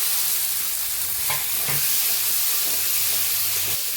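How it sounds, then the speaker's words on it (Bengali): Boiled watermelon rind tossed into a pan of fried spices sets off a loud, steady sizzle and hiss, with a few scraping stirs partway through and no voices. "এবারে সিদ্ধ করে রাখা তরমুজের খোসাটা দিয়ে দিচ্ছি।"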